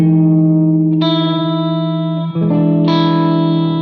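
Electric guitar played through a J Rockett vibe effect pedal: sustained chords ringing loud and close with a gentle wavering pitch shift, changing chord a few times with no talk over them.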